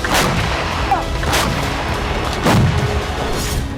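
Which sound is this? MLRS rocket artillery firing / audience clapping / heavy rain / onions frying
MLRS rocket artillery firing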